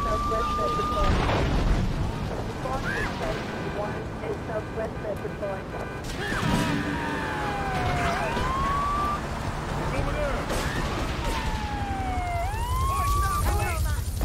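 Police sirens wail in GTA 3 The Definitive Edition, rising and falling repeatedly amid engine noise, crashes and explosions, with someone talking over the chaos.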